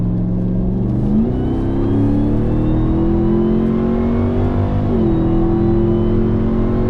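A 700hp Ford Raptor R or 702hp Ram TRX pickup, roughly 6,500 pounds, launches from a brake boost, its engine droning loud and close as revs climb steadily, dip briefly at a gear change, then rise again.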